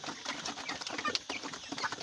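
45-day-old farm chickens cluck softly in short, uneven bursts, fairly faint, with a few sharper calls mixed in.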